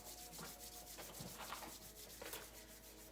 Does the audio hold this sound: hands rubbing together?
yes